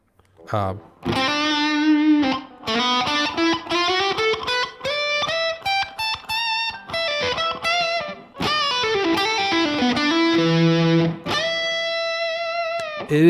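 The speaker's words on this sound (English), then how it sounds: "It sounds almost like a wah-wah pedal has been turned on and left at a certain" Electric guitar played through a Boss DS-2 Turbo Distortion pedal, a series of sustained and sliding distorted notes with a strong mid-range honk, loud and close with short gaps between phrases.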